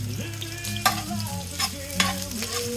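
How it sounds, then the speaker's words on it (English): Smoked sausage browning in leftover bacon grease in a pot on a Big Green Egg for Cajun jambalaya, a steady sizzle and crackle with occasional scraping stirs and sharp pops, close up and without talk. "I'm gonna brown my smoked sausage first"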